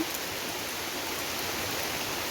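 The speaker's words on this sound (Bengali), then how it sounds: "রহমতের বৃষ্টিতে" Steady, even hiss of rain falling in Lakshmipur, Bangladesh, after a heatwave, continuous and uniform throughout with no other sounds standing out.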